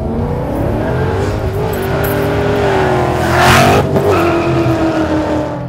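A Vortech supercharged 2011 Ford Mustang GT V8 accelerating hard, its engine note climbing steadily through the revs with a brief louder surge near the end, loud and close with no talk.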